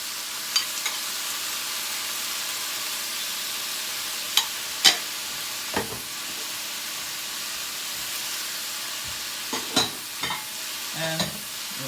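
Mushrooms, peppers, carrots and celery sizzle in a hot pan for a chicken and vegetable stir fry, a steady frying hiss broken by a few sharp scrapes and clinks of stirring.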